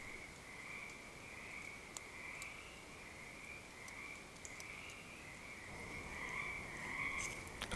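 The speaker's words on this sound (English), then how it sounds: "A chorus of frogs can be heard from the pond, serenading the night and heralding the start of spring." A dense chorus of frogs croaks continuously from a pond at night on Vancouver Island in spring, a steady trilling drone from many animals at a distance, with no voices.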